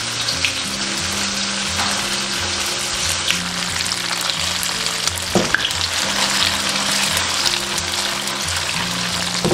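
Tofu fries in hot oil in a wok over medium-low heat, giving a steady, close, loud sizzle throughout with a low tonal background underneath.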